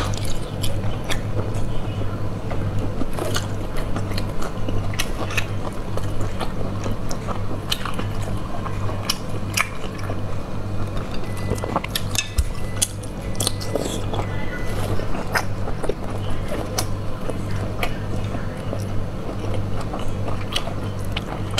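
Close, crisp biting and wet chewing of abalone snail repeat steadily throughout in eating ASMR, with a low steady hum underneath.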